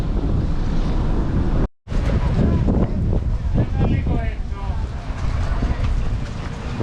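Strong wind buffets the microphone at an outdoor market where umbrellas are being tied down, a loud continuous roar with gusts, one brief dropout, and people talking underneath.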